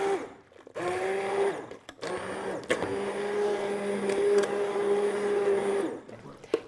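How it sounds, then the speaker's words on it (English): An immersion blender purees soft cooked cauliflower and sweet potato, a loud, steady motor whir in two long bursts with a short break between them. "I'm just going to blend this with an immersion blender until smooth."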